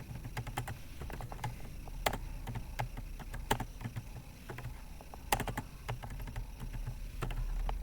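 Typing on a computer keyboard, irregular close clicks and sharper key strikes tapping out in quick bursts over a low steady room hum.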